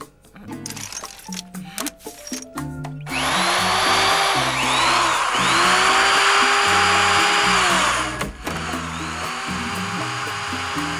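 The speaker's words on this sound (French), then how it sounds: "Perceuse." An electric drill runs in a continuous, rising whine for several seconds, loud and close, with cartoon music and sound effects around it.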